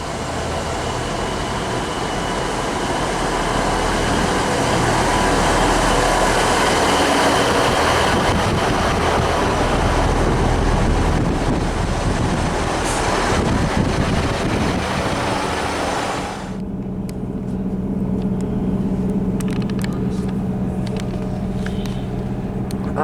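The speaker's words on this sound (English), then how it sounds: "this is our train back to Goole" A refurbished class 158 diesel multiple unit bound for Goole rumbles with steady broadband noise for about sixteen seconds, then drops to a quieter idling hum with faint clicks, without speech.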